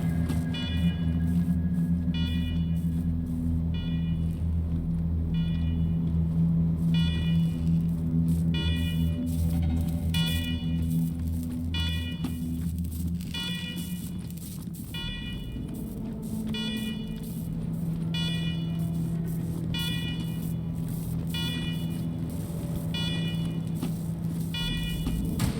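Security alarm in the video game Wasteland 3, a loud repeating electronic pulsing tone that beeps in a fast regular rhythm over a low droning hum, continuing steadily throughout with no talk.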